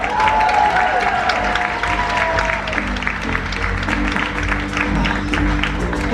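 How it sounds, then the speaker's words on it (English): Dense, sustained applause from a theatre audience at a live show aboard the cruise ship Empress of the Seas, loud and continuous with some cheering mixed in. "if you're going to applaud, you better do it now"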